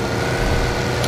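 A car engine in the PUBG Mobile video game gives a brief, loud, rough low rumble that holds steady throughout, with no voices.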